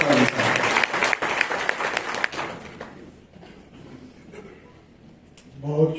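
An audience at a best distributor award ceremony applauds to welcome a guest to the stage. The clapping is dense and loud for a couple of seconds, then thins and fades before a voice begins speaking.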